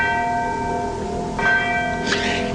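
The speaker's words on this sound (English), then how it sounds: "And then there's this bell." A single bell at Chillingham Castle rings out loud and near, its long sustained tone humming throughout with two fresh strikes swelling in partway through.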